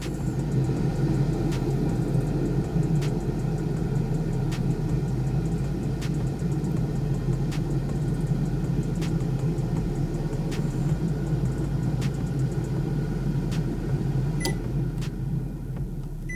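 COSORI Turbo Blaze air fryer running in bake mode, a steady low fan-and-motor hum with a continuous broadband whir, constant and close, with faint regular ticks above it and no talking.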